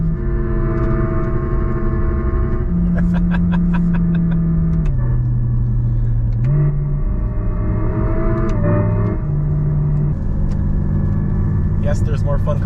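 Inside a 2026 Lexus RZ electric car, a synthetic engine sound plays stepped revving tones broken by short popping rev-bang crackles. It is loud and steady throughout.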